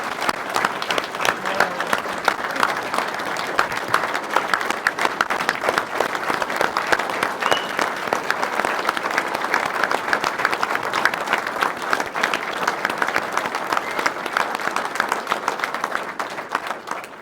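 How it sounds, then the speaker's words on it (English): A conference audience claps for award recipients at a ceremony, sustained dense applause from many hands that holds steady throughout and fades slightly at the close. "Let's recognize them one more with a great round of applause."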